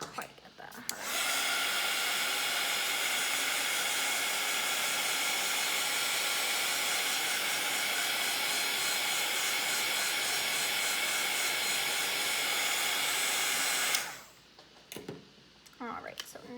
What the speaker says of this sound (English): I'm gonna go ahead and turn on my heat gun every 5 seconds to do a new layer of crystal drops